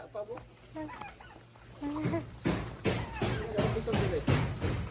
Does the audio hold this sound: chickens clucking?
yes